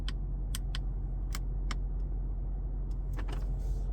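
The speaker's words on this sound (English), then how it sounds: "Just a click, a nice solid click." Several crisp, solid mechanical clicks ring out in the quiet cabin of a 2025 Mercedes CLA 250 over a steady low hum, spaced irregularly with a quick cluster near the end.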